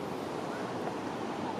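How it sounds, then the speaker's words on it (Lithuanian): Ocean waves break on the shore far below a viewpoint above the ocean along Highway 101, a steady broad roar of surf mixed with wind buffeting the microphone, no voices heard. "Kartais va čia vat smarkiai taip duoda banga."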